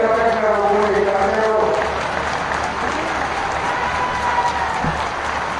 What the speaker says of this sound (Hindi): एक बार जरा खड़े होकर सारे तालियों से स्वागत करो